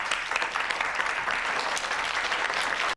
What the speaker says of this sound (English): Y'all applauding the criminal